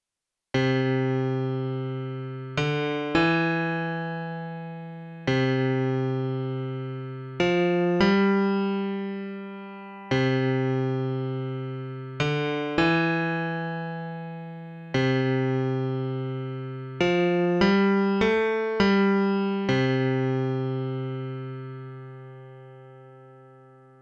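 Synthesized notes from a major scale, triggered by FL Studio's CodeFN42 Chordz plugin, ring out in a repeating rhythmic pattern, each tone decaying slowly, with quicker clusters of notes toward the end and no chords or voices.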